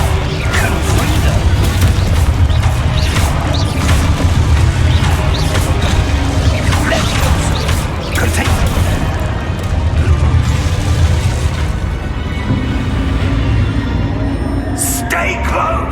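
Confringo spell blasts in Hogwarts Legacy combat: dense, loud explosive bursts and crashing impacts pile up continuously amid chaotic fight noise.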